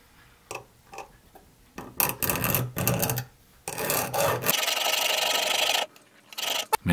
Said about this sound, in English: I'm sure that this file should be a lot harder than this steel, even though the steel is hardened.